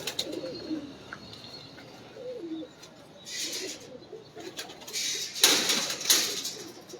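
Pigeon kept by a bird fancier cooing in soft, low rounded phrases near the start and around the two-second mark, with brief bird chirps and rustling later, fairly quiet overall.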